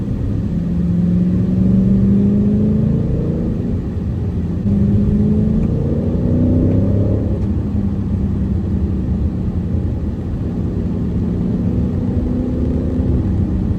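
A 2023 Dodge Challenger R/T Scat Pack Widebody's Hemi V8 revs steadily on a twisty country road, a loud, continuous engine roar rising and falling through gear changes with no talking.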